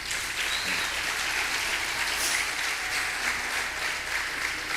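A church congregation claps and applauds together during a worship service, a steady dense wash of hand claps holding at even loudness for several seconds with no speech over it.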